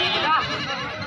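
A goat bleats once in a long, wavering cry, close and loud, at a livestock sale of nanny goats.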